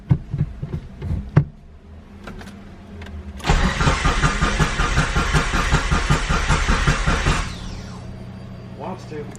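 A built Mitsubishi Evo 5 engine cranks over on its first start attempt, a loud rhythmic starter churn lasting about four seconds without catching, with people talking nearby before and after.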